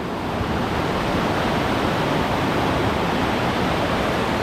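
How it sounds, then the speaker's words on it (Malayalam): The Vattathil waterfall and its swollen river rush with strong, steady, broadband roar, loud and continuous with no voices over it. "കാരണം അത്ര ശക്തിയായിട്ടാണ് വെള്ളം ഓടി വരുന്നത്"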